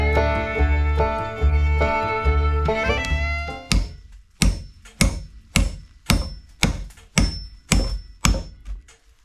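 A sustained musical chord fades out, then a hammer strikes repeatedly in a steady rhythm, each blow a sharp, close, ringing knock.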